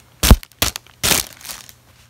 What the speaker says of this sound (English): This nice little foggy plastic zip bag, and then inside is another super plastic bag.